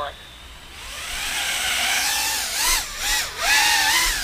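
A TransTEC Kobe 140 FPV quadcopter flying on a 4S battery, its motors whining steadily and rising and falling in pitch with throttle punches, close by with a voice speaking over it.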